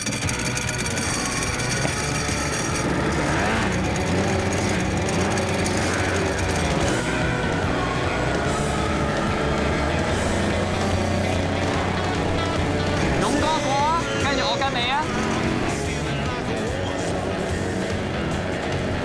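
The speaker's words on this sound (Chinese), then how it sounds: "當個引擎一撻著嘅時候，我隱約聽到呢架車係有啲啷啷鈴鈴、啷啷鈴鈴嘅聲喺入面" A two-stroke motorcycle engine running after starting, a loud, continuous buzzing drone that holds steady for the whole stretch, with some talk mixed in.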